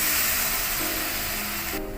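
Water poured into a hot cooking pan seasoned with salt and turmeric for a chhana and bori curry, heard as a loud, steady spray-like hiss and sizzle that cuts off abruptly near the end.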